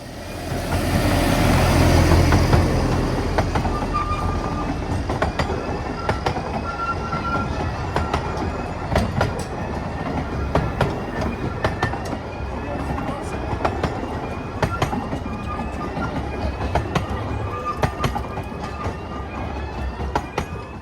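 A heritage railway train at Longleat rumbles past close by with steady rhythmic clatter of wheels on rails, a loud roar at first settling into a continuous clacking.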